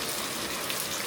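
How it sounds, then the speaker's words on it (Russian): Heavy rain pouring down in a village in Yakutia, a dense continuous hiss of falling water with no break, steady and close. "А сейчас вон ливень."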